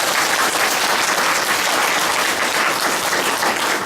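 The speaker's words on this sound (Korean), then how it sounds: "찬양과 경배의 박수를 올려드립니다." A church congregation claps in praise and worship, a loud, even roar of many hands that stays unbroken and alone throughout.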